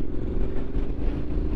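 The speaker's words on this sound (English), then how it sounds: "We'll warm the bike up a bit. And wind her open." A 2021 Triumph Street Scrambler motorcycle's engine rumbles loud and close as it is opened up, a dense, pulsing low roar that holds steady through the short burst.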